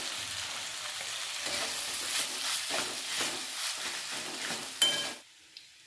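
Chicken paste and potato fry in a pan while being stirred, giving a close, steady sizzle broken by scraping strokes at an irregular rhythm. The sizzle stops abruptly near the end, followed by a brief utensil knock. No one speaks.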